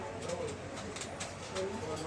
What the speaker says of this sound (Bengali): তো আজকে কিছু রেসার কবুতর থাকবে